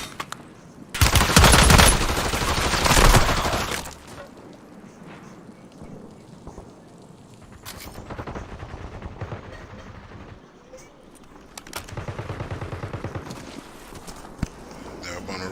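Gunfire from shooters positioned on a rooftop, a loud burst of rapid automatic fire early on, followed by quieter scattered shots and another sustained volley later, with voices talking in between.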